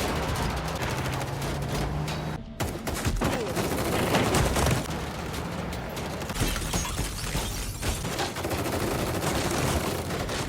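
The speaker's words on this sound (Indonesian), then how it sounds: "Anak buah Carlos pun menembakinya dengan membabi buta." Dense bursts of gunfire from a gangster film scene, a rapid fusillade of shots fired wildly at a policeman, loud and continuous with crackling impacts and a brief dropout near the start.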